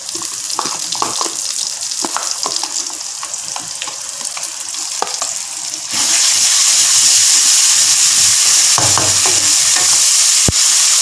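Ground spice paste hits hot oil in a pan with a loud, steady sizzle and crackle, stirred through, then surges into a harsher, louder hiss partway through, with no one talking.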